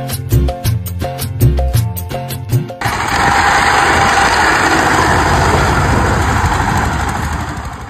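A power tiller's engine runs steadily and fairly loud while working a paddy field for rice planting, a continuous drone that follows a stretch of music with no talking.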